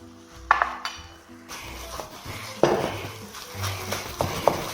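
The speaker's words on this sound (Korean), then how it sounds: "수분감이 날아가면서 따글따글따글따글따글 볶는 소리만 나주면은" Rice stir-fried with garlic sauce in a pan, heard as a metal utensil clinking and scraping against the pan in scattered strikes over a soft sizzle and a low background hum.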